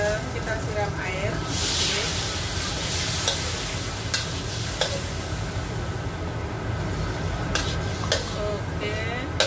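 Steady, even sizzling of spices frying over low heat in a pan, with occasional stirring clinks and scrapes, continuous and close.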